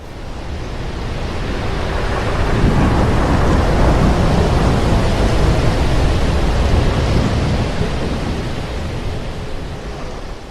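Roaring storm wind and crashing surf along a cove, a dense, continuous broadband rush that swells slightly louder after the first few seconds and holds steady, with no voices.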